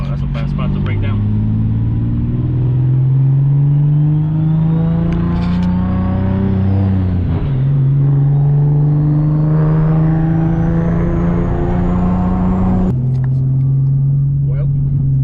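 A Nissan 370Z Turbo with newly installed brake pads and rotors drives steadily on a bedding run, its engine droning loud and close as it climbs through the gears, with a brief dip and shift midway and someone talking over it.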